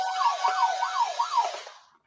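A siren sound effect played through a speaker, wailing up and down in steady repeated sweeps, loud and alone before fading out.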